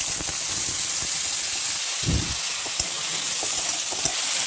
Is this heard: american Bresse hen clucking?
no